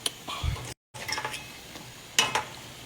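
Dough pieces are stirred in syrup in a pot, giving soft wet swishes and scraping, with a brief gap and a couple of sharper clinks toward the end.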